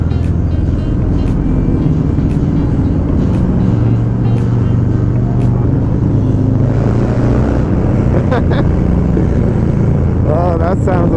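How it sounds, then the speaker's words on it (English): A motorcycle's exhaust rumbles steadily inside a tunnel with a low, booming drone that sounds enclosed and echoing, and a few brief sharper pops cut through. "Yeah, some nice pipe sounds in here."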